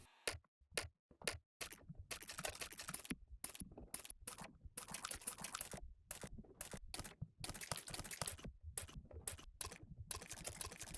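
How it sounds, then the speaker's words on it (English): A glitch loop from a binary glitch sample pack, built for an IDM-style beat, plays alone as fast stuttering clicks and chopped bursts, with rapid stop-start gaps that loosen into a denser continuous rattle. "So this is what the glitch loop sounds like."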